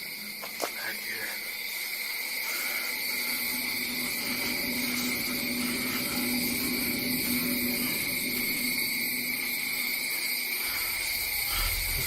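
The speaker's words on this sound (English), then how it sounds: "Loud dragonflies, cricket bastards." Loud, continuous insect chorus at night with crickets and buzzing insects, steady sustained tones filling the background, with a person talking briefly over it.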